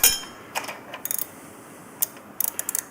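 A wrench ratchets while tightening the hose fittings of an UltraCool 3.0 oil cooler on a Harley, with quiet, close, short bursts of rapid clicks separated by pauses.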